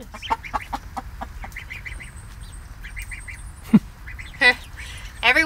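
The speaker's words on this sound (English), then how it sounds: "Just a quick little update on our ducks and our goose, Quackers, Cheese, and Ed" Ducks and a goose on a homestead give scattered, close quacks and honks in short bursts and single calls, with a soft background hum between them.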